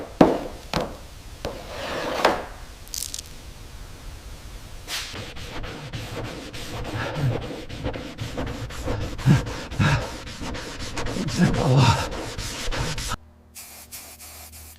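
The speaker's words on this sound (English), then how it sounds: "I can't take any more sanding" Hand sanding of body filler on a 1967 Mustang panel, with rhythmic scraping strokes and knocks close by, growing busier and denser as the work continues before ending abruptly.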